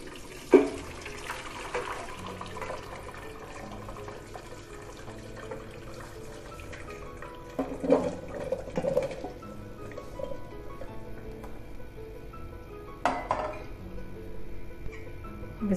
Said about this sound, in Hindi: अब इसको ड्रेन करते हैं वाटर से, और एक छलनी में हम इसको ड्रेन कर लेते हैं